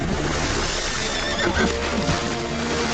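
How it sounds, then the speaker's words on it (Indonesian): A mare stuck in a swamp and close to drowning neighs loudly and hoarsely, with noisy, churning background sound throughout. "Namun, kuda betina itu akhirnya terjebak di rawa dan akan tenggelam."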